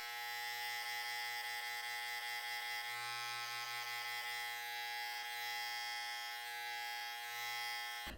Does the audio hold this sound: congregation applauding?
no